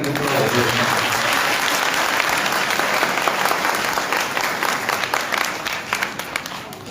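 A church congregation at an Easter Sunday service bursts into sustained applause, a dense, loud wash of many clapping hands that carries on steadily before thinning slightly toward the end.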